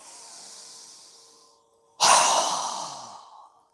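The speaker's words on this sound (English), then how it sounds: "exhale through our mouth with a very strong exhale" Yoga breathing: a soft drawn-out inhale fades away, then after a brief pause comes a strong, forceful exhale through the mouth, close and loud, tapering off over about a second and a half.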